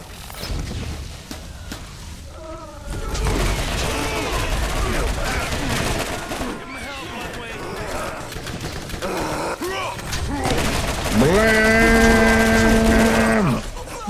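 Gunfire in the Borderlands video game, with bursts of shots amid game effects and a loud, sustained tonal sound near the end, all under character voices.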